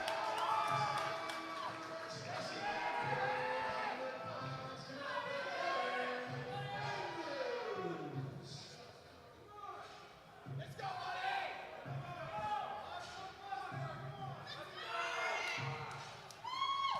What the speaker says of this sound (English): Crowd's getting loud for Eric.